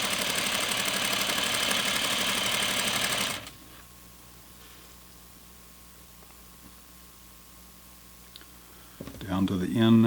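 A sewing machine stitches flannel pajama pants in a fast, loud, steady whir for a few seconds, then stops, leaving a quiet hum before it briefly restarts.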